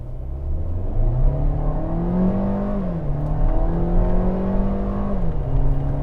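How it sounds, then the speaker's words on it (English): A Mercedes A250 with a 2-liter turbo engine accelerates from inside the cabin, its hum rising and falling through gear changes in a steady, fairly loud drone. "The only problem I have with the engine is that it's very loud at high RPMs"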